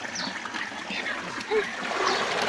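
Light water splashing and trickling close by as wheat kurdai dough is dipped into water, with people talking over it.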